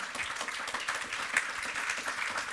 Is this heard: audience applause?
yes